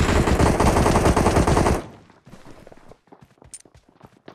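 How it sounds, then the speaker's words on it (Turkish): Automatic gunfire in the mobile battle-royale game PUBG Mobile, a loud sustained burst of rapid shots for nearly two seconds, then quieter scattered shots and footstep-like clatter. "Bana mı sıktı o?"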